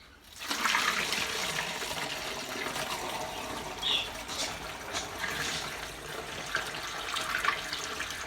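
Water kefir being strained as liquid pours steadily through a strainer, a continuous close splashing trickle lasting several seconds with slight variations, no speech.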